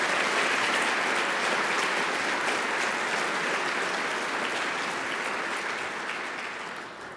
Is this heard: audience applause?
yes